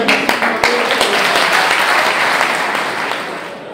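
A room full of people applauds, a steady wash of clapping that holds strong and slowly tapers toward the end.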